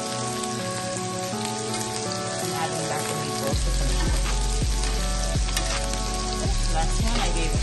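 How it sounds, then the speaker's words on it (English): Onions sauteing in a pan for spaghetti sauce, giving a loud continuous sizzle with a few sharp clinks and scrapes partway through, no voices. "And then I'm going to saute the onions."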